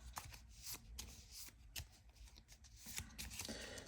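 Marvel Champions playing cards are shuffled nearby, quick riffles and soft flicks repeating in short bursts for a few seconds.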